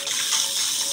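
Tap water runs steadily and close by while a face pack is rinsed off, a continuous bright splashing rush with no pauses.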